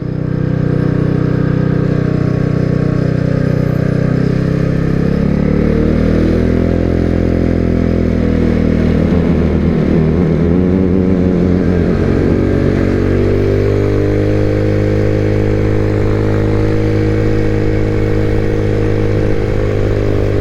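IceBear MadDog scooter engine while riding, a steady buzzing drone close to the rider whose pitch dips and rises midway as speed changes, then settles back into an even hum.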